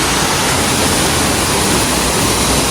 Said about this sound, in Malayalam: ഇതാണ് നമ്മുടെ മാടൻ വെള്ളച്ചാട്ടം.